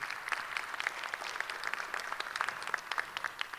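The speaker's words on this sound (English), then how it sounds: "Miss Jenkins, if you can give her a round of applause." An audience at a school spoken word event claps for a teacher, steady moderate applause of many hands with sharp individual claps standing out throughout.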